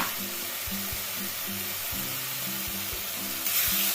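Spices for a katla fish curry fry in a pan with turmeric, chilli powder and salt: a steady, hissing sizzle runs throughout, with a faint rhythmic clatter beneath and no talk.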